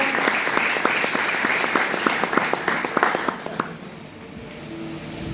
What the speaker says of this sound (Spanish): le damos un aplauso para Lisa